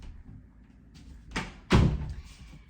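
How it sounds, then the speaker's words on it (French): A door is pushed shut indoors in a flat, giving a couple of soft thuds and then one loud, close slam before the room goes quiet. "Je vais fermer cette porte."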